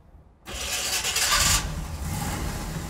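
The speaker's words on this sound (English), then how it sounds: "Nice and smooth 454 Chevy." 454 Chevy V8 in a huge custom boat tail car built from a firetruck cranks and catches after a short silence, flaring briefly and then settling into a smooth, close, steady idle.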